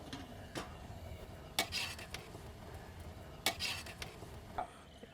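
A spoon scrapes and clinks against a pot while avial, a South Indian vegetable dish, is stirred, with a few sharp metallic knocks over a soft steady background.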